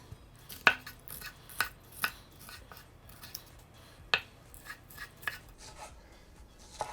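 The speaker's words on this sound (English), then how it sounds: "Now I'm gonna chop my pepper." A knife chops a pepper on a cutting board in a home kitchen, giving sharp, scattered blade strikes and scrapes at an irregular pace, close and fairly quiet, with no talk.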